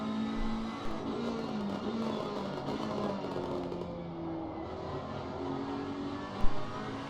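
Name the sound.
GT3 race car onboard lap at Misano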